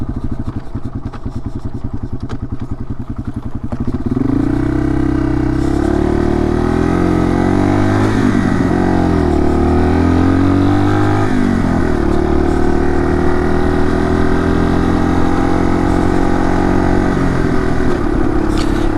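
A Yamaha XT225 motorcycle engine runs loud and steady throughout a ride, with a few gear changes and swells of revving as the bike picks up speed, and no voices over it.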